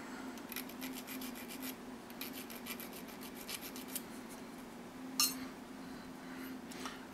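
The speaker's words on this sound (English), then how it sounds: "sand that down a little." Close, faint rhythmic rubbing and rasping as a part of an airsoft gun blowback unit is sanded down by hand, in short repeated strokes with a brief clink near the end.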